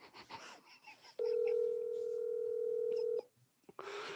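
A single long, steady phone tone rings out loud and clear for about two seconds, framed by faint talk and a short keypad tone just before and after.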